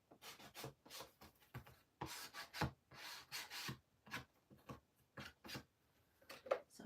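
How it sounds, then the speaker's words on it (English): Short rasping strokes of a nail file scraping a paper edge, coming in irregular bursts with brief pauses between them, fairly quiet and close. "I'll just use a fingernail file"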